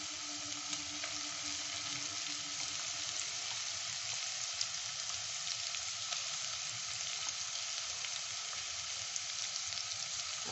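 Small chopped onions fry in oil for murgi bhuna, giving a steady, fairly soft crackling sizzle that runs unbroken throughout with no talk.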